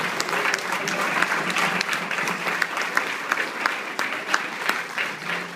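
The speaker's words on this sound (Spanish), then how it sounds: "Un aplauso para el Señor Jesús en este momento." A church congregation claps together in a continuous round of applause, with sharp individual claps standing out from the dense crowd sound, fairly loud and close.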